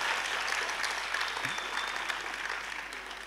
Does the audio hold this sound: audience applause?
yes